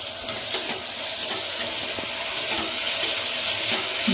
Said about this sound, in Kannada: ಈಗ ಸ್ವಲ್ಪ ಎಲ್ಲ ಫ್ರೈ ಆಗಲಿ.